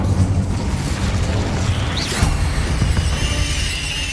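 Incendio fire spell cast in Hogwarts Legacy, a loud dense roaring whoosh of flame that holds steadily over several seconds with a faint rising magical shimmer.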